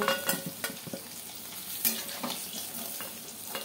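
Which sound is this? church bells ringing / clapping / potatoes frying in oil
potatoes frying in oil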